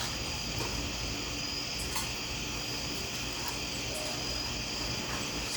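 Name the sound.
crickets and grasshoppers chirping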